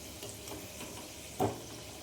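Samosa frying in oil in a pan, a soft steady sizzle with faint crackles and one brief louder splash or clatter partway through, close and alone.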